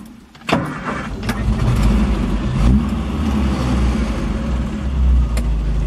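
A 1977 Triumph Dolomite 1300 engine sits at fast idle with the choke pulled out, catching with a sharp start and then holding a steady, slightly uneven running drone close by, with small surges in level.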